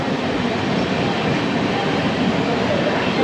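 A steady, loud rumble of a train at Kottayam railway station fills the clip, a continuous rail drone without distinct clatter.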